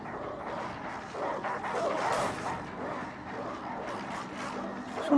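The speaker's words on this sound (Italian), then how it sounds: "Sono cagnolini! Cosa potranno mai fare di male? Sono cuccioli!" Puppies bark and yip in the Switchback VR horror video game, a cluster of small rapid yelps and whimpers at moderate loudness.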